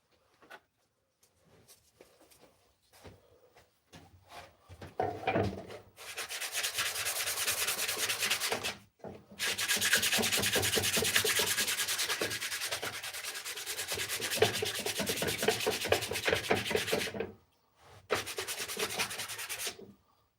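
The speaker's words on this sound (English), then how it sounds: "I'm gonna take just a little bit of fine sandpaper and just kind of brush over it just right quick." Fine sandpaper rubbed over a wooden cross during finishing, heard as long continuous scratchy strokes that run several seconds each, separated by brief pauses, loud and close with no talking.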